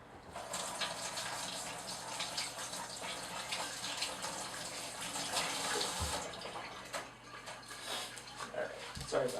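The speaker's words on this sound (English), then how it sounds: "I'm just gonna rinse my hands with water because I got" Hands are rinsed under a running kitchen tap mid-cooking, a steady gushing water stream with splashing changes, and a voice talks briefly over it.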